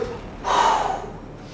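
A sharp inhale taken during a leg exercise in a muscle-building drop-set session, a single short rushing breath rising and fading over about half a second, close and moderately loud, with no talk.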